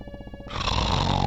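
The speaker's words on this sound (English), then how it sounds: "He snores in response." A man snoring in the adventure game The Dagger of Amon Ra, a short, loud, rasping, growly snore burst from a low retro game sound effect, heard alone.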